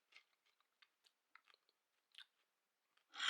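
Someone chewing a cucumber up close, with a string of short, crisp crunches and bites spaced out over a few seconds, alone in a quiet room before a louder burst at the end.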